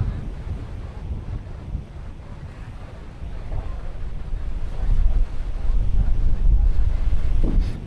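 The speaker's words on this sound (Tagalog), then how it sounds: "Mahangin talaga." Strong coastal wind near mangroves on Coron island buffets the microphone with a continuous low roaring rumble. Gusts build louder about halfway through, and there is faint surf-like noise underneath.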